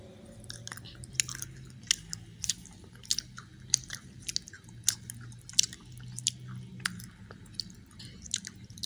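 A lemon-tasting macaron being bitten and chewed close up, with a run of soft, moist crunches and squishy bites in an irregular rhythm over low background rumble, no talking.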